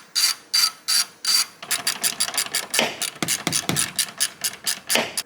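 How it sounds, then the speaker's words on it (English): A ratchet wrench turns bolts while a carbon fiber fender goes onto a 2022 11th-generation Honda Civic. Four separate ratcheting bursts come first, then a longer run of rapid clicking strokes, close and loud with no talk. "And then we can start bolting the fender back in."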